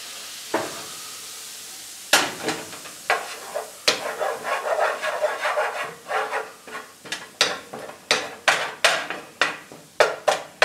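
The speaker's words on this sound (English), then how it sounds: "Gonna give this nice little stir" A utensil stirs and scrapes in a pan of searing salmon, irregular wooden-sounding strokes and clacks over a soft sizzle, growing into a quicker, steady rhythm.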